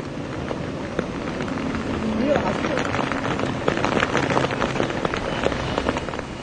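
Heavy monsoon rain falls on Mumbai streets, a dense, steady hiss of downpour with scattered splashes and occasional traffic rumble, and a person talks over it throughout.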